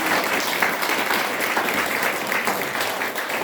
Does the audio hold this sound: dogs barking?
no